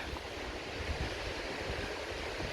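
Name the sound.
wind blowing on a coastal walk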